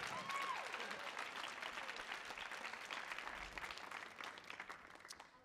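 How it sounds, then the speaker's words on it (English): Audience clapping at the Millennium Stage during a Palestinian film and arts festival, a fairly faint, sustained patter of many hands with a brief tonal sweep near the start, tapering slightly at the end. "Let's clap for that."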